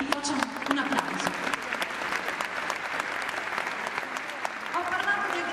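An audience at the Verdinotte 2011 event in Battipaglia gives steady applause, dense and fairly close, lasting several seconds while a voice carries on speaking over the clapping.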